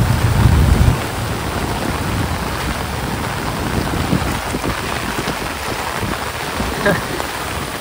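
Heavy monsoon rain beside a flooding river in a Konkan village, a dense, steady roar of rain and rushing water, loudest with a low rumble at the start and then constant.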